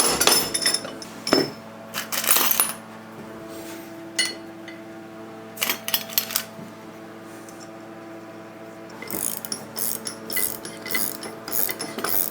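The locking screw on an HSK32 bench vise is tightened close up. Clicks and ratcheting metal scrapes come in irregular bursts, with quiet gaps between the turns.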